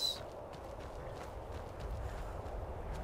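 Soft, steady hoof clops of a horse in the game Skyrim over a low rumbling background, evenly paced and moderately close, with no talking.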